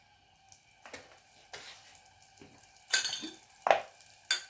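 Butter dropped into a frying pan, heard as a handful of separate clinks and scrapes of a utensil against the pan with a faint sizzle in between, fairly quiet and close.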